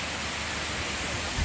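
A waterfall rushes in a steady, dense roar of broadband noise, loud and unbroken throughout the short stretch, with no voices heard.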